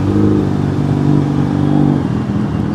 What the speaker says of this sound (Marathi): रेव करायला आवडत नाही, पण मला आवाज ऐकायचा असतो ना, मी करतो.